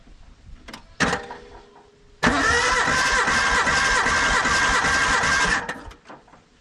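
Suzuki Sierra SJ50 engine cranking over on the starter for a compression test, a steady loud churning whir lasting about three seconds after a brief click and short burst, then cutting off.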